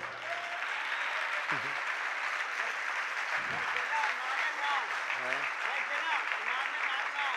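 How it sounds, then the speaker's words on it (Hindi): Audience applause at a spiritual discourse rolls on as a steady, fairly distant wash of clapping throughout, with a few faint voices mixed in. "ये तालियाँ बजाते रहो"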